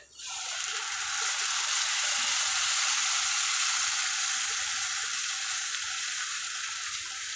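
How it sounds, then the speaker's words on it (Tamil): Ground masala paste frying in a kadai for chicken kulambu, a loud steady hissing sizzle that starts abruptly and holds evenly, close by with no talk. "இப்போ நம்ம வந்து இந்த அரைச்சி வச்சுருக்கிற பேஸ்ட்டை சேர்த்துக்கலாம்."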